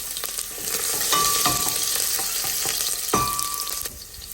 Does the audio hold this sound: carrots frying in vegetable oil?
yes